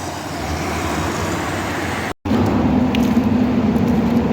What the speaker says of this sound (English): So you can hear the cars on top of me still.